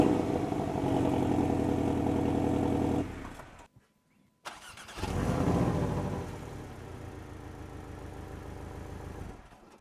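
A Porsche 718 Boxster T engine revs and runs loudly, cuts out into brief silence, then another sports car engine fires up and idles with a deep, throaty rumble nearby.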